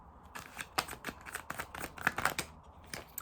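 A deck of tarot cards being shuffled close up, a quick run of crisp riffling flutters and soft slaps lasting a few seconds, fairly quiet with no voices.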